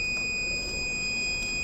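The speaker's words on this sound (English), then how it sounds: "it will give a buzzer alert if any" Buzzer alert from a transformer oil temperature monitoring circuit: a continuous high-pitched electronic tone holding steady over low hum and background noise, no speech.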